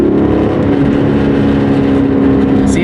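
A Hyundai Genesis 3.8 R-Spec engine runs loud and close, its exhaust note a steady, deep, throaty drone with a strong low rumble that holds evenly throughout without any talking.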